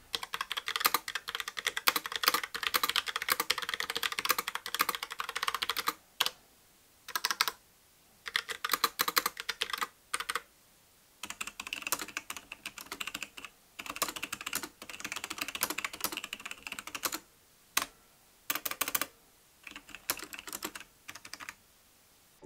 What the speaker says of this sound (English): the Cherry MX Browns produce a higher pitched sound that's more pronounced